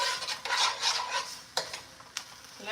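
Food is stirred in a pan over a medium flame, with scraping and clinking utensil strokes over a soft sizzle, plus a couple of sharper knocks against the pan near the end.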